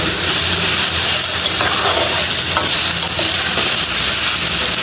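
Onion frying in a pan makes a loud, continuous, close sizzle and hiss, with occasional stirring scrapes and no talking.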